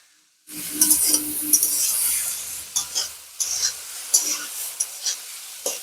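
Vegetable stems stirred with salt and turmeric in a pan, bursts of scraping spatula strokes against the metal over a low sizzle, close and fairly loud, with several separate strokes in an irregular rhythm and no talk.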